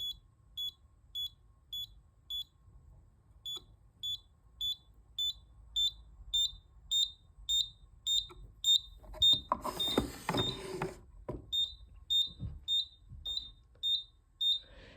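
A CE Electronics elevator floor-passing chime sounds a regular series of short, high electronic beeps, clear and close, with brief handling noise partway through.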